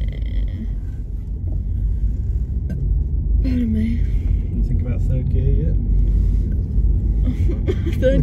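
Car engine rumbling low and steady while a learner driver reverses, heard close from inside the cabin beneath people talking.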